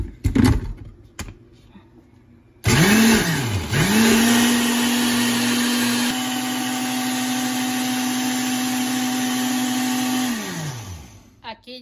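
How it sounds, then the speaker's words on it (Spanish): A blender whirs up loudly after a few short pulses, purees chili for a Oaxacan-style bean soup, then runs steadily for several seconds before winding down; a voice is heard briefly at the start. "Lo vamos a llevar que se vaya a licuar."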